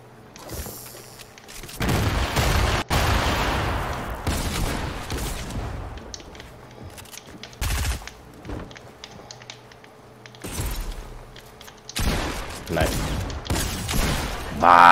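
Video game gunfire comes in loud bursts and booming shots scattered across the stretch, with mechanical clatter between them and a player talking at times.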